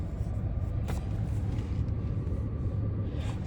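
Steady low rumbling road noise heard from inside a moving car, continuous and fairly loud with faint rustles on top, no clear speech.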